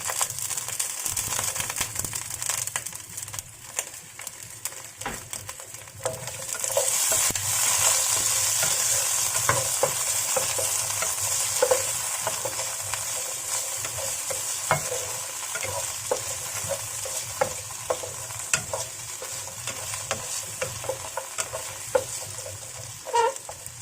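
Asparagus, mushroom and kikiam (ngo-hiang) stir-frying in a pan: a steady, close sizzle with occasional stirring scrapes, growing a little louder and hissier partway through, with no talking.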